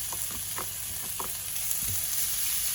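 Peppers, onions and sirloin steak fry in a pan with a steady, close hiss and a few soft stirring knocks, with no voices.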